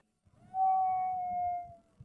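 Coyote howl, a single sustained tonal wail rising then slowly sliding down for over a second, clear and fairly close over a faint low background.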